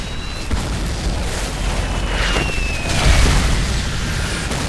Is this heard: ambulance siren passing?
no